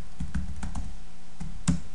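Close, clattery keystrokes on a computer keyboard while entering a radius value in AutoCAD, a quick uneven run of several taps with a brief pause before a final harder press.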